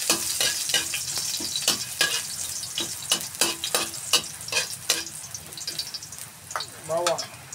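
Ginger stir-fried in a pan sizzles and hisses continuously, with repeated scraping strokes of the spatula, close and clear, and a brief voice near the end.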